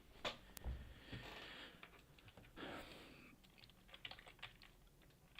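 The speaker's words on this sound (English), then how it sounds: "the dog is standing on my keyboard." A dog standing on a computer keyboard, scattered soft key clicks and taps as its paws shift, quiet and irregular in a still room, with a few louder thumps early on.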